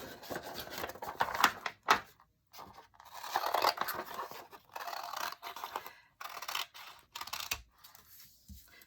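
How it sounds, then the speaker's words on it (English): Scissors cut through folded sheets of copy paper, giving a series of short, close crisp snips and crunches with brief pauses between them, fairly quiet overall. "I'm going to take my scissors, cut them in half."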